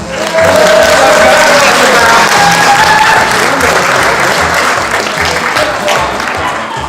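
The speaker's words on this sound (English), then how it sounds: "Big round of applause." A large crowd at a gaming expo panel gives a big round of applause, loud and sustained dense clapping with a few whistles and cheers, fading slightly toward the end.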